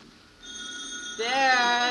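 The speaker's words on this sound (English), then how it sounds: "The telephone's ringing." A telephone rings in a 1950s family home, its bell tone steady and moderately loud, swelling brighter partway through with harmonic warble.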